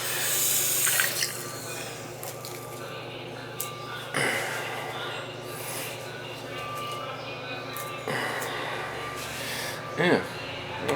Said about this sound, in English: We'll turn the water on and check it.